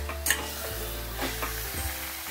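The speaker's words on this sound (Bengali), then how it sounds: "দিয়ে দিলাম, দিয়ে ভালো করে এটা নাড়াচাড়া করব, মশলার মধ্যে কষাবো ভালো করে।" Marinated chicken is stirred through a spice masala in a hot pan, with steady sizzling and frying under repeated scraping strokes of the spoon, close and fairly loud, with no talking.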